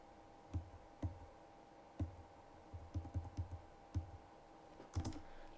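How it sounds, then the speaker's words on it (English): Keys clatter on a computer keyboard in irregular single taps and short bursts, quiet and close in an otherwise still room. "that's me typing the wrong thing."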